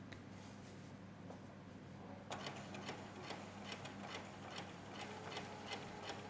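A domestic sewing machine stitches a coat's back neck edge, a quiet needle hum that then turns into a rapid, even ticking rhythm of stitches, close and faint with no talk.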